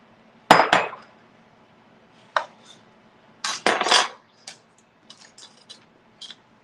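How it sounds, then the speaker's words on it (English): A knife and half a lemon on a kitchen surface: several separate clinks, knocks and scraping clatters at irregular intervals, close and distinct against near silence. "now I'm going to juice half a lemon"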